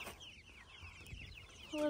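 Chickens cluck and chirp in short bursts close by, with a busy, scratchy farmyard murmur and a brief louder note near the end.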